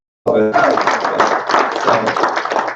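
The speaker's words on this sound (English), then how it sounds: "Give him a round of applause" An audience at a business group's Monday meeting applauds a new recruit: a sudden, loud burst of many hands clapping that runs on steadily, with voices mixed in under it.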